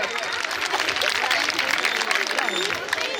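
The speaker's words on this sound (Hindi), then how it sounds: "एक बार जोरदार तालियों से स्वागत।" Audience applause welcoming a guest at a large women's empowerment event in Uttar Pradesh, a dense steady wash of clapping and crowd hubbub lasting throughout, loud and close.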